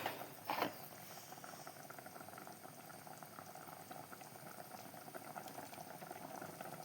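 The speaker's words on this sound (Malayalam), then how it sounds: "അപ്പോൾ ഇതാ ഒന്ന് തിള വരുന്നുണ്ട്." Fish avial made with anchovies bubbles at a steady boil in a pot, a soft continuous simmering hiss with a brief louder bubbling burst near the start, close and with no talk.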